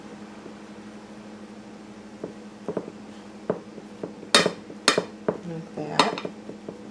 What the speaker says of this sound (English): I'm going to take a spoon and just kind of smooth that out just a little bit